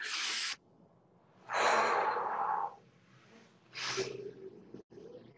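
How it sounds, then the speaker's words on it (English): Guided EFT tapping session with slow, deliberate breathing: a loud airy inhale near the start, then two more long breaths spaced a couple of seconds apart, close and unaccompanied by talk. "Take a big deep breath in."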